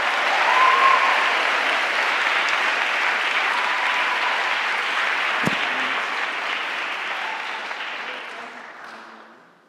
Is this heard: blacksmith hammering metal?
no